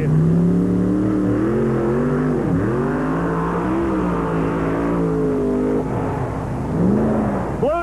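An alcohol-burning drag race car at the NMRA meet in Pomona, 1991, sends out a loud, steady engine roar whose pitch climbs, dips and rises again across the run.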